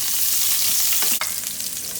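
Chopped onion frying in olive oil in a pan, a dense, loud hiss with a brief stir and one sharp clink near the middle.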